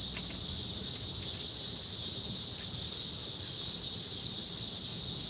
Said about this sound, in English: you guys could hear the cicadas pretty loud through there.